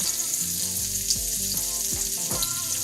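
Chopped poblano and red peppers with onions sautéing in a pan, giving a steady close sizzle with stirring scrapes and no voices, backed by faint tonal music.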